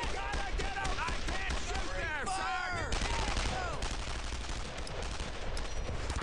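Gunfire in Brothers in Arms: Earned in Blood, a World War II shooter: dense overlapping rifle and machine-gun fire crackles steadily throughout, mixed with shouting voices in the battle.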